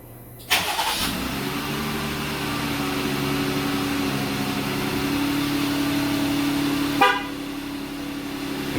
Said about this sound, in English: Vehicle should remote start for us.